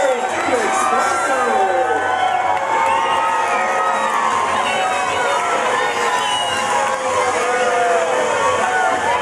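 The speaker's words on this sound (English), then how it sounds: "So you all need to cheer." Lucha libre wrestling crowd cheering and shouting at Luchapalooza, a dense, loud, continuous roar of many voices with whistles and whoops, close and sustained throughout.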